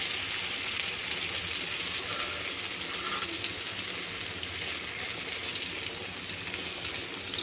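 Five beaten eggs sizzling steadily in a frying pan for an egg fried rice dish, a continuous bright crackle with no pauses and no voices.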